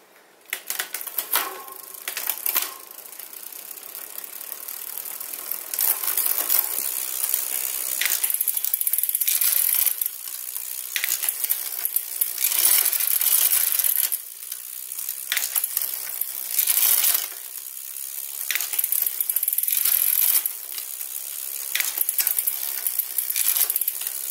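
Mechanical front derailleur on a bicycle being shifted repeatedly, giving a continuous run of close metallic clicking and ratcheting chain noise in bursts, with no speech.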